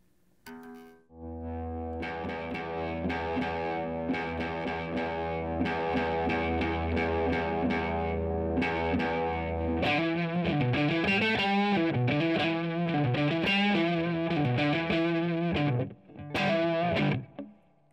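A distorted electric guitar through a Mesa Boogie Mark V combo tube amp, first a sustained ringing chord, then a busier run of choppy, crunchy riffing notes.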